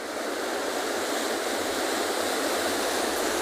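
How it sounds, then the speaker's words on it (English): Large ocean swell rolling onto the sandy beaches of Betty's Bay, a steady, loud broadband roar of surf with no break and no voices. "those massive waves that are rolling in to the beach"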